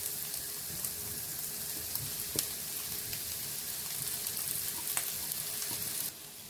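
Vegetables and chicken sizzle steadily in a pan, a continuous close frying hiss with occasional soft pops and stirring, no voices.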